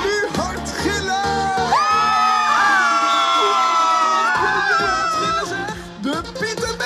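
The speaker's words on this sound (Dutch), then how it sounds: "Nu hard gillen." A crowd of children at a Sinterklaas party dance in Almelo scream loudly and shrilly all at once, a sustained chorus of high-pitched shrieks that swells and then breaks into scattered shouts, with music pulsing underneath.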